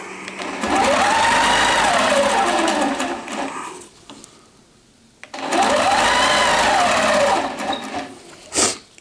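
A longarm quilting machine stitches a dog-themed placemat along rulers, with two long runs of fast, even whirring separated by a brief quiet pause and a sharp click at the end.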